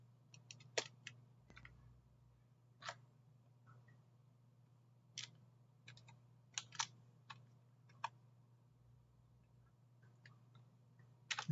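Someone types on a computer keyboard in a quiet room over a steady low hum, with scattered, irregular keystrokes, some alone and some in quick bursts, close and crisp.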